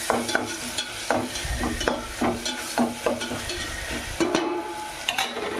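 Green chillies and a pinch of turmeric frying in a pan, with a steady close sizzle and recurring scrapes and clinks of stirring.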